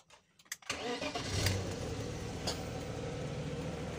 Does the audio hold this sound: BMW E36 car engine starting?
yes